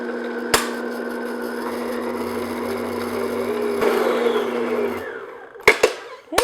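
An electric hand mixer whirs steadily at medium-high speed through pumpkin bread batter, then cuts off with a few sharp knocks of the beaters against the bowl.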